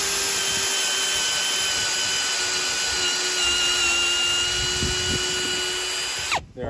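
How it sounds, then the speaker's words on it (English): A power drill turns an oiled reamer slowly down a head-stud hole in a BMW M50 engine block, running at a steady, high-pitched whine for several seconds, close and loud, then winding down abruptly at the end. "put just a little bit of oil on the tip of this reamer just to help it cut easier"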